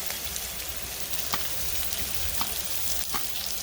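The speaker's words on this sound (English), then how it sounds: "I'm just going to put the shrimp right on." Shrimp sizzle on the hot side of a pan in an RV kitchen, a close, steady frying hiss with scattered small pops.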